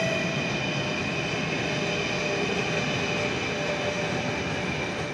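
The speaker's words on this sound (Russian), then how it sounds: "По восстановленной конструкции пошел первый состав." A train rolls across a restored railway bridge on its first run after repairs, giving a loud, steady rumble of wheels and wagons that fills the whole stretch, with no voices.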